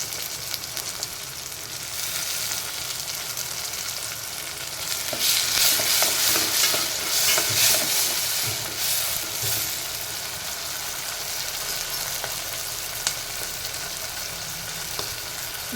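Tomatoes sizzle and fry in a pan while being stirred for a fenugreek and spinach greens dish, a steady crackling hiss that swells into louder scraping stirs midway, with no voices.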